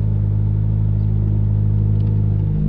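VB-generation Subaru WRX with a Perrin pitch stop installed, engine rumbling steadily at close range as the car rolls and drops down a curb, a continuous low drone with no talking.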